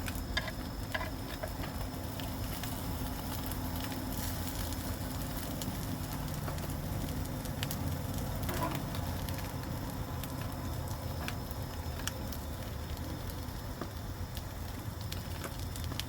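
A steady crackling sizzle of onions frying in a pan, with scattered pops and ticks throughout, close and continuous, with no talking.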